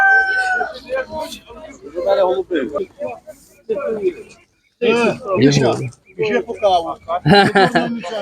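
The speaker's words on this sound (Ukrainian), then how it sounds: "По чому ці кури?" Chickens at an animal market in Ukraine, with crowing and clucking mixed among close conversation between people bargaining, bird calls intermittent under the talk.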